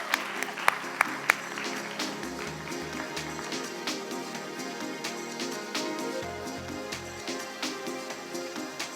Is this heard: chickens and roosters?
no